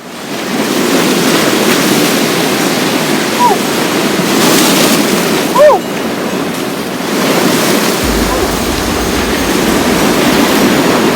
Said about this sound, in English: Such a big breeze over there, the beach.